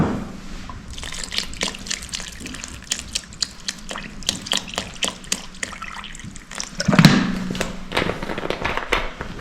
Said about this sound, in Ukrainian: Тут я вилив десь 300 грамів.